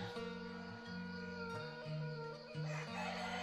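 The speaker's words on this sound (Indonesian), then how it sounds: "Masih ayam juga, masih banyak yang berkokok ya sahabat." Roosters in a village at Kampung Baduy Luar, Kanekes, crow one after another in the morning, their long drawn calls overlapping against a steady background hum, fairly close and with no talk.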